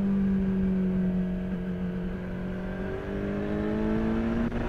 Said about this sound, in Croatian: A tek sad nakon 8000 motor stvarno poludi i postaje prava mala raketa